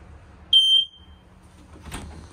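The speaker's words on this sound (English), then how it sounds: "Smoke detector." A single sharp, high-pitched electronic beep from a smoke alarm in a 2024 Palomino SolAire 320TSBH travel trailer, lasting about a quarter second, followed by a faint clatter over quiet room noise.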